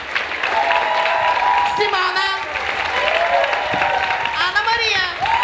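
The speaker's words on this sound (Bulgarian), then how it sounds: "наши аплодисменти" An audience at a diploma concert applauds with continuous clapping while someone speaks loudly over it, as if announcing names.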